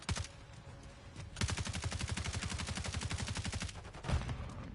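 Rapid automatic gunfire rattles steadily for about two and a half seconds in a Call of Duty Hardpoint match on the Shipment map, fired through walls, with isolated shots before and after the burst.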